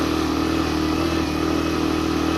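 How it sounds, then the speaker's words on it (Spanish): A Suzuki GN 125 motorcycle carrying a passenger climbs an off-road slope, its engine a loud, close, steady labouring drone that holds strain throughout with no pause. "Ustedes mismos saquen sus conclusiones de qué tal es la moto con pasajeros"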